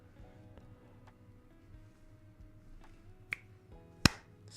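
Two sharp finger snaps, the second louder, close and crisp over a quiet room hum with faint tones, no talk.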